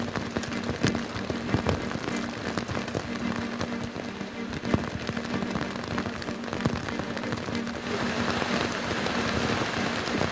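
Steady rain pours onto a surface during a long road journey, a dense continuous patter of drops at close range that holds an even loudness throughout, with no voices.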